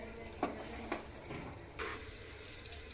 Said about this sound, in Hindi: देखिए, इस तरह से हम इनको भून लेंगे खिचड़ी को